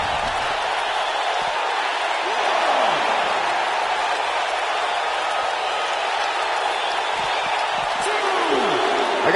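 A passionate wrestling crowd roars in an arena at Survivor Series, a loud sustained cheer with occasional sharper shouts, while a commentator talks over the noise.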